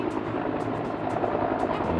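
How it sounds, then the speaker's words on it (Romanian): A helicopter lifts someone off a high peak in Hawaii. A steady, loud rotor and engine drone carries through the whole stretch with no pause. "Cineva este luat cu elicopterul de acolo de sus"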